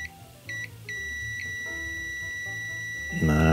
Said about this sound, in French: Là j'ai mon ohmmètre qui va biper si le circuit est fermé.